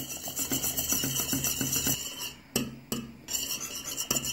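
A spoon stirs butter into Turkish rice pudding (sütlaç) in a pot, making steady rhythmic scraping strokes up close that pause briefly midway, then resume.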